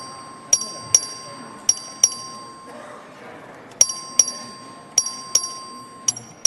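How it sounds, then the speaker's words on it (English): Voting bell in the Texas House chamber, rung in a series of clear metallic dings in irregular pairs with a pause midway, over a faint sustained tone and low room murmur. "The clerk will ring the bell."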